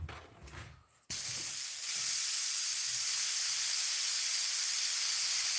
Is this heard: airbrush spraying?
yes